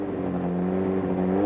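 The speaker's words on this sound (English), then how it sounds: "Sasol fires up the Sasol Ford to bring the car under starter's orders" A Ford rally car fired up under starter's orders at the 1993 Sasol Rally, its engine holding a steady, loud, throaty drone with rising harmonics as it revs, close by and with no talk over it.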